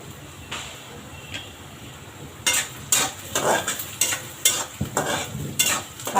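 Onion and tomato masala sautéing in a pan, with a quiet low sizzle at first, then from midway a run of loud, repeated spoon-scraping stirs in an irregular rhythm, close up and with no voices.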